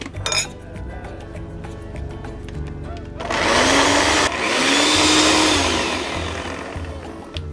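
A blender purees strawberries with white and dark rum: a few clinks first, then the motor kicks in with a loud whirring whine that dips briefly and surges again before winding down.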